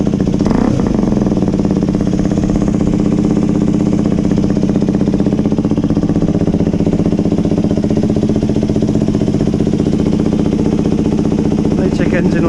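FB Mondial HPS 125 motorcycle with a Malossi Forcemaster 2 kit idling just after starting, a loud, close, steady rapid engine putter with mechanical clatter throughout.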